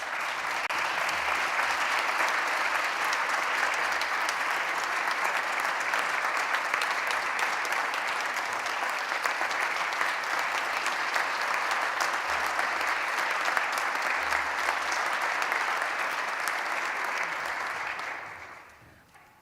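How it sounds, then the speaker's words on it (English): A large crowd at an awards ceremony applauds loudly and steadily for a long stretch, the clapping dense and sustained before fading out at the end. "Just want everybody to give a round of applause to my friend, Corinda Rainey Moore"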